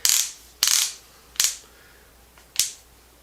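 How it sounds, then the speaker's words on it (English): The chuck clutch of a cordless 12 volt Hercules drill slips and ratchets in four sharp, separate bursts, each fading quickly, close and loud with quiet gaps between. "That was the clutch spinning there"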